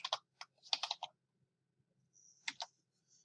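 Clicks from a computer mouse, or keys, used in a spreadsheet: several quick clustered clicks early on, then a pair of sharp clicks later. Close and fairly faint, with no talk.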